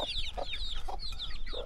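Chickens, including small chicks, cluck and call repeatedly as they roam around a Nepal village, with short, close, chattering bursts over a steady low background hum.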